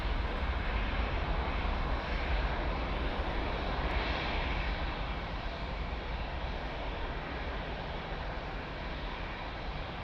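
Airliner on approach to runway 02 at Lisbon Airport, a steady loud engine roar and broadband rumble holding evenly throughout with no talk.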